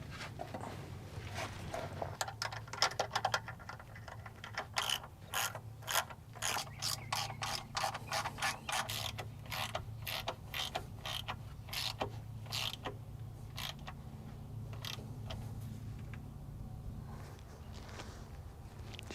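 Ratchet wrench clicking in quick repeated bursts while loosening the starter bolts on a 1997 Ford F350 with the 7.3 turbo diesel, steady close ratcheting creaks through most of the stretch over a low hum.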